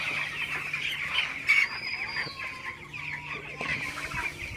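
Broiler chickens cluck steadily in a poultry shed, a dense, continuous flock murmur with a few louder squawks rising above it, fairly close and without any talk.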